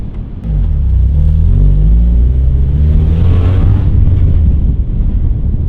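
A Mazda Miata engine drones loudly from inside the moving car, a deep, steady exhaust rumble blended with heavy wind buffeting across the microphone, continuous throughout.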